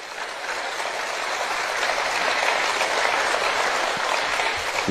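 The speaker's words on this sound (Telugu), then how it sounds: "ఆ చప్పట్లు అంటే ఏంటి మీనింగ్?" Sustained applause from an audience at a Telugu spiritual discourse, dense and steady crowd clapping that fills the whole stretch at an even, fairly loud level with no voices on top.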